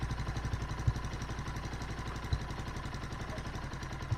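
A motorcycle engine idles steadily with a fast, even mechanical clatter while its carburetor mixture screw is adjusted; the idle stays close and moderately loud, broken by a few sharp ticks.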